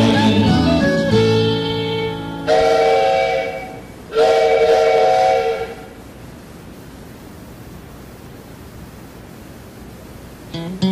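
Loud train whistle blasts sound in two or three long, harmonic tones, followed by quieter rumbling and a brief sharp sound near the end.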